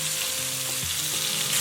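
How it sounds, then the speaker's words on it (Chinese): Bamboo shoots stuffed with meat filling pan-fry in oil, giving a continuous close crackling sizzle with no voices. "煎到肉馅表面金黄，再给它翻个面，把背面也煎上1-2分钟。"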